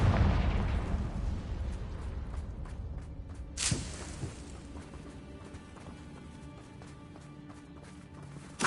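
Confringo fire spell blasting in Hogwarts Legacy, a sharp explosive burst about midway followed by crackling debris and a rumbling game combat bed, with another burst at the very end.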